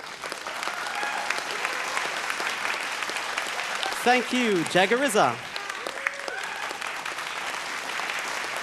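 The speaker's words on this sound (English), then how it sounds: "round of applause for our guest judge, PNG artist Kronos" Applause from a television talent show audience for a guest judge, steady clapping throughout with a brief spoken thanks over it partway through.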